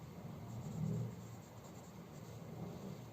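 Pen writing on paper during an English lesson, a soft continuous scratching and rubbing close by, fairly faint and steady with slight swells in pressure.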